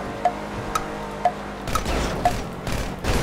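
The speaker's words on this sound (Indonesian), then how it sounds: "Ini gua sambil nembak nih" Gunfire in GTA 5 Online during a secret-agent escort mission: sharp shots ring out at a steady pace, then give way to denser bursts of firing and rumbling in the second half, with no voices.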